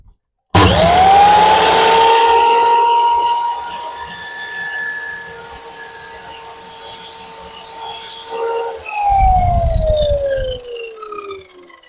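A Procraft PGS217 1400 W mitre saw with a 210 mm disc spins up to a loud, steady motor whine, then bites through the workpiece in a short, harsh cut before winding down with a falling tone.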